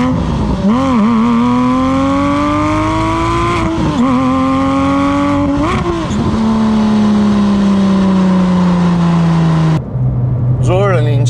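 A 2007 Porsche 911 GT3 RS with an aftermarket exhaust, its flat-six engine revving repeatedly, loud and close, climbing and falling in pitch across several blips before an abrupt cut and a final rev, with someone talking over it.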